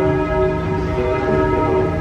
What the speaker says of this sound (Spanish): Está sonando las campanas.